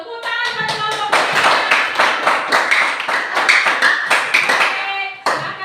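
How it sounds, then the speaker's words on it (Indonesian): A classroom group claps for the third group of students, a dense run of quick hand claps with some voices over them. "Tepuk tangan buat kelompok 3."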